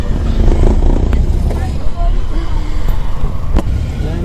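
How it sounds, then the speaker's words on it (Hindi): A car drives along a road at night, its engine and tyre rumble loud and close from inside the vehicle, steady throughout with faint voices in the background. "ड्राइवर बाबू गाड़ी धीरे चला"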